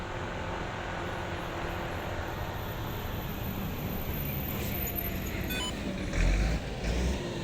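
Steady rumble of heavy traffic with many vehicles passing on a Manila street near the old Diplomat Hotel, a continuous low roar that swells with a couple of louder passes near the end.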